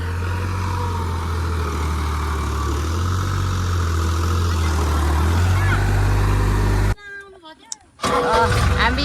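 Tractor engine idling on a village road, a steady low rumble filling most of the stretch before cutting off abruptly, followed by brief nearby voices.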